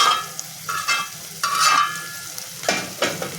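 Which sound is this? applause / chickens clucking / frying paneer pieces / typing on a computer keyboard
frying paneer pieces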